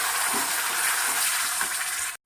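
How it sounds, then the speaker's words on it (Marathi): Ground gravy is sautéed on masala in a pan, producing a dense, steady sizzle with faint stirring scrapes, lasting about two seconds before stopping sharply. "मसाल्यावरती ग्रेव्ही आपल्याला व्यवस्थित परतून घ्यायची आहे"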